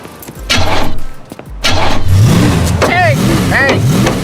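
A car starts and revs in a movie scene, a loud engine roar swelling after a brief catch, with voices talking over the running motor.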